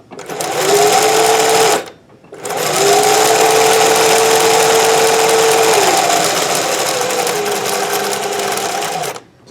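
A Singer 411G sewing machine fitted with a custom speed reducer runs in a steady, loud, close whirring hum for about two seconds, stops briefly, then runs continuously again for roughly seven seconds.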